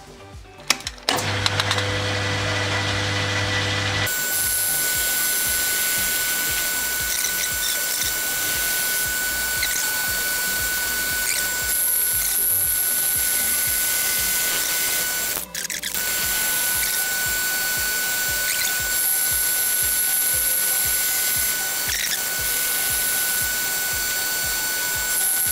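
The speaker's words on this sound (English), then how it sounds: "What I'll now do is run the end mill down this face to get those two faces square" End mill cutting down the face of a steel block on a WM250V lathe, a loud constant motor whine with a high cutting hum running steadily after a brief startup, no voices.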